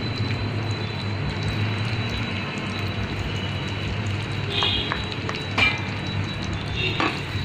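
A thick almond barfi mixture with dry fruits is stirred in a pan, giving a steady sizzling, frying hiss with soft scraping and a few sharper clinks near the end.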